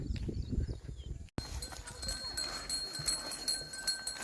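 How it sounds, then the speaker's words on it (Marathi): A voice talks briefly, then clear metallic bell tones from bells on grazing buffaloes ring and linger over rustling and shuffling movement nearby. "घंटे कशा वाजतात बघितलं ना चरताना जरा"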